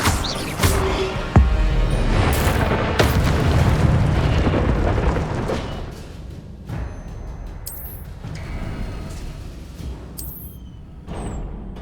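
Incendio fire spell cast repeatedly in the video game Hogwarts Legacy: loud whooshing, booming bursts that roll over each other, then sharper, sparser bursts over a quieter background.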